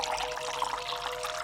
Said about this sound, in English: So I'm gonna pour some in here.